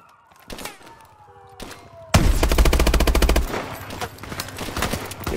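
Automatic gunfire from a futuristic military shooter video game, Call of Duty: Advanced Warfare, bursting loud and dense for over a second after a few earlier thuds, then trailing into scattered shots and rumble.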